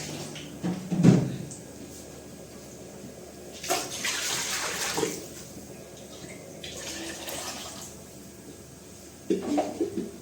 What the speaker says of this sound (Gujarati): તો ચાલો આમાં થોડું કેટલું પાણી નાખશું આપણે